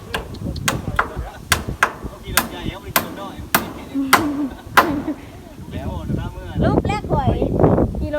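Hammer blows drive nails while updating a rural kitchen house, about ten sharp strikes in an uneven rhythm over the first five seconds, followed by rustling, wind noise and voices.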